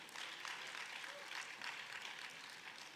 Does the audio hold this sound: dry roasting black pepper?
no